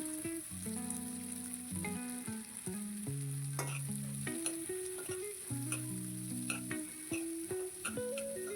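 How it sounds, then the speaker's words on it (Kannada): Carrot and cabbage stir-fry in a pan for a white sauce pasta, with a continuous sizzle and occasional stirring scrapes beneath steady background music. "ಒಂದು ರೌಂಡು ಕ್ಯಾರೆಟ್ ಎಲ್ಲ ಬೇಯಿಸ್ಕೊಂಡ್ಮೇಲೆ ಇವಾಗ ನಾನು ಎಲೆಕೋಸನ್ನ ಸೇರಿಸ್ಕೊಳ್ತಾ ಇದ್ದೀನಿ"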